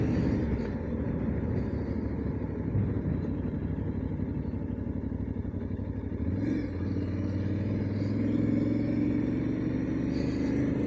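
Aprilia Tuareg motorcycle riding along a rough, worn road past a campground, a steady continuous engine rumble and road noise with a rising pitch sweep near the middle, alone with no talk.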